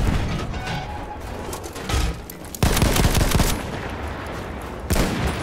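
Battlefield 1 gunfire in a busy firefight, with dense rapid shots and machine-gun bursts over a constant roar of battle, plus sharp louder blasts near the middle and the end.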